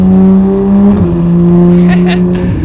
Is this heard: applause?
no